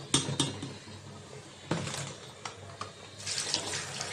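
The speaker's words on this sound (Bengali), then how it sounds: "আমি এখন তরকারিগুলো ধুয়ে নেব মূলা" Radish and other vegetables are rinsed under a running kitchen tap, with a few sharp clinks of a bowl or utensils up front and a steady, close hiss of flowing water that swells toward the end.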